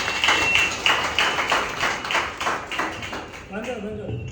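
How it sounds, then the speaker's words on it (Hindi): A gathered audience claps in a steady, rhythmic pattern to welcome a suggestion, the claps fairly close and fading after a few seconds as a voice begins to speak. "तालियां से हम उसका स्वागत करें"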